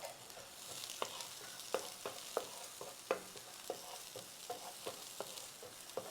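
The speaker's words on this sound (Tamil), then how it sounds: "கொஞ்சோண்டு தாளிக்கிறதுக்கு வெங்காயங்க" Soft steady sizzling of onions frying in butter in a pan, with regular scraping taps of a spoon stirring, close and quiet, no voices.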